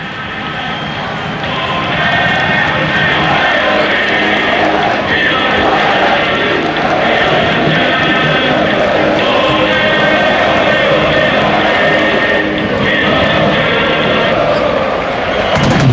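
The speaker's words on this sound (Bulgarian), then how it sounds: "Аплодисменти за Гаджев, който видя свободния Вутов и го намери по най-добрия начин." A football stadium crowd applauds a player at a Levski match, a broad, sustained roar of clapping and cheering that stays loud throughout, with a commentator talking over it.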